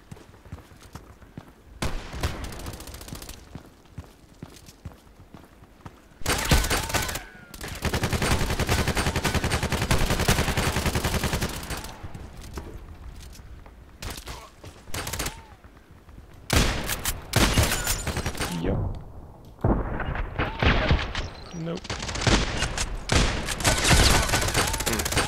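Gunfire in the online shooter Contract Wars, repeated bursts of automatic and single shots, loud and dense, broken by short quieter gaps, with occasional faint voice.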